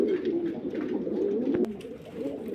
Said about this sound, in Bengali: এক রেড লাহরি আছে কবুতর